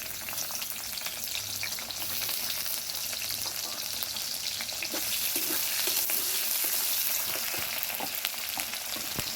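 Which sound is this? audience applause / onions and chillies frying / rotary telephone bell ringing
onions and chillies frying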